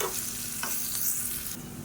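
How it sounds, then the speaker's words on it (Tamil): Onions frying in coconut oil for a kulambu give a steady, close sizzle with soft stirring scrapes throughout, and no one speaks. "இப்போ இந்த வெங்காயம் வந்து நல்லா வதங்கணும்"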